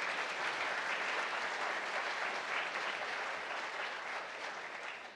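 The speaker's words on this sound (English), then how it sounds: "let's give them some applause as well." Sustained applause from an audience at a memorial ceremony honoring victims of lynching, steady and dense throughout, slightly fading toward the end.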